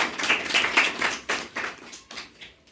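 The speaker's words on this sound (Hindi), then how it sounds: "तो इनके लिए एक बार फिर से जोरदार तालियां बजाई जाएगी।" An audience at a school Constitution Day quiz event claps for students: a burst of loud, distinct hand claps in uneven pulses that gradually thin out and fade toward the end.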